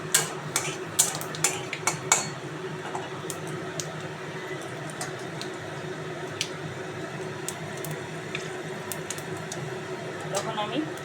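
Drumstick stems being stirred in hot oil with panch phoron in a wok, soft scraping and clinking of the spatula in scattered strokes over a faint steady frying hiss, fairly quiet and close.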